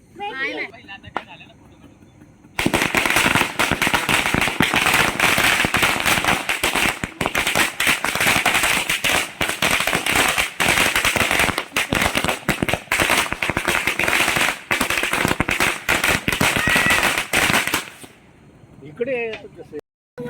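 Diwali firecrackers, including mirchi bomb strings, crackle and burst in a dense, loud, continuous volley lasting most of the stretch. Faint voices are heard just before and after the barrage.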